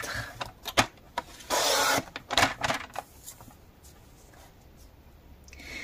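Pieces cut from a craft board offcut for a mini stamp-storage album, heard as close rubbing, rasping strokes in short bursts, including one sustained scrape, then fading into quiet.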